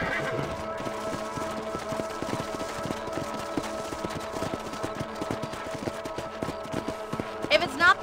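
Horse hooves clip-clop steadily at a walking pace in the Red Dead Redemption ranch intro, a muffled rhythmic patter running under the game's background score.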